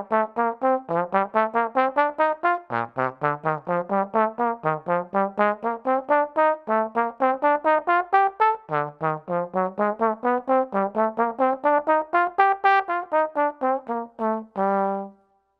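An instrument plays jazz scales, a long, fast, evenly articulated run of single notes rising and falling for about fifteen seconds and ending on a held tone, loud and close with no talking.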